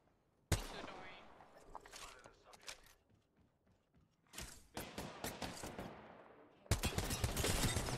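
Bursts of automatic gunfire in the battle royale shooter Apex Legends, with a sharp opening shot, a dense volley in the middle and a loud sustained spray at the end, trailing off between bursts.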